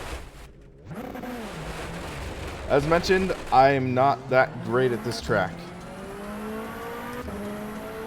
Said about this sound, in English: sound for this car is pretty darn good for what I'm assuming is a 4-cylinder